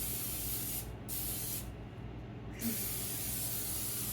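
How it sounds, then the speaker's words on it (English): Two short hissing bursts of aerosol cooking spray onto bread pans, close by, over a steady background hum. "Spray the pans. Set those aside."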